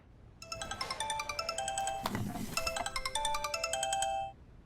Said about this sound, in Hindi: सॉरी, कवल का फोन है, मैं आती हूँ।